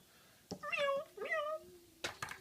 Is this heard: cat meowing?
yes